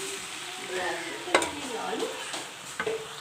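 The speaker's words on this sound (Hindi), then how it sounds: "अब फाइनली मैं इसको अच्छे तरीके से भूनूंगी" Cauliflower and meat with red chili sauté in a pan with a soft, steady sizzle, broken by a few sharp clinks and scrapes of a utensil against the pan.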